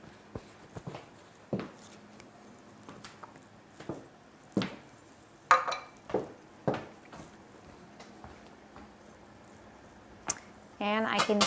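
Thick polenta simmers in a pot on a home stove, giving off sporadic soft wet plops and bubbling bursts spaced irregularly across a quiet kitchen background.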